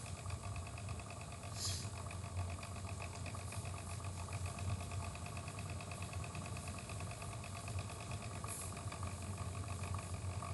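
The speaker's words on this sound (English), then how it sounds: "My laptop fan is dying and makes a horrible sound, kind of like a chainsaw." A failing laptop fan drones with a rough, rumbling, chainsaw-like buzz, steady and faint throughout in a quiet room, with no speech.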